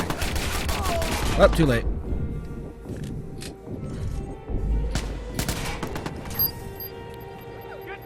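Gunfire erupts in the video game Watch Dogs as sharp bursts of shots crack and thump in clusters, with quieter gaps between volleys and a player's voice speaking briefly over the action.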